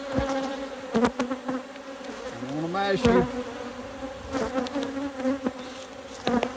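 A close, continuous buzz of honey bees swarms around a beekeeper harvesting honey, with someone talking briefly through it and a few sharp handling knocks.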